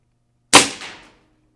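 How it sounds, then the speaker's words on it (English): A single sharp shot from an Umarex Emerge break-barrel magnum airgun, fired once with iron sights, close and loud with a short decaying tail and no talking. "First shot out of the barrel."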